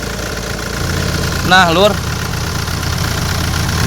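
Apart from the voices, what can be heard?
Hyundai Santa Fe 2.2 CRDI diesel engine idling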